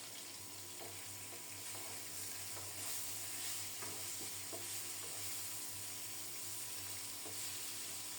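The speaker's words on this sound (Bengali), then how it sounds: "আলুগুলোকে লাল লাল করে ভেজে নেব।" Salted potatoes fry and get stirred in a pan until browned, a faint, even, continuous sizzle with occasional soft scraping knocks, quiet and without speech.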